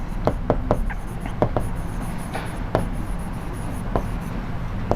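Handwriting during a maths lesson, with repeated quick scratchy pen or chalk strokes in short bursts over a steady room hiss, no speech.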